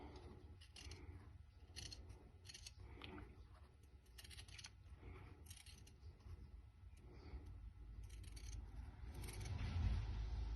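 Scissors snipping through fabric while cutting out the main piece of a homemade COVID-19 face mask, a run of close, crisp cuts in an irregular rhythm with short pauses, louder toward the end.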